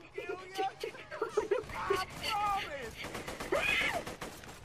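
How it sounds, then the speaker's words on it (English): Gunfire from a gun in Borderlands 2 rattles in quick bursts of sharp shots at moderate volume, with game voices groaning and shouting between and over the volleys. "Alright, this gun's really inaccurate, actually."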